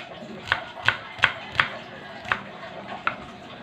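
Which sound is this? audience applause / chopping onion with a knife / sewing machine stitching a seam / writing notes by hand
chopping onion with a knife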